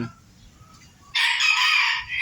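A young ornamental bantam rooster crows once, loud and close, after a second of quiet low farmyard rumble; the crow holds steady for about a second and then tails off.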